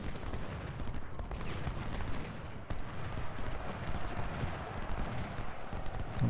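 Musket volleys and battlefield gunfire in the video game Ultimate General: Civil War at the Battle of Second Bull Run, a dense continuous crackle of distant shots with a low rumble, steady and fairly loud with no talk.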